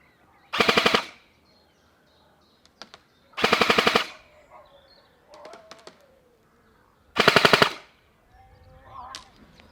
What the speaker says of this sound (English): let's do some proper harassing fire out to 65 metres and do some full auto bursts